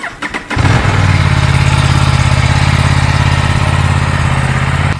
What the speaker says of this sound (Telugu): ఒకసారి అయితే బైక్ ఆన్ చేసి కోల్డ్ స్టార్ట్ చేసి చైన్ రొటేట్ చేస్తుందాం